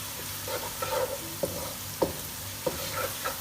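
Chopped ginger and garlic sautéing in hot oil in a pan, a steady soft sizzle with occasional close clinks of a spoon stirring against the pan.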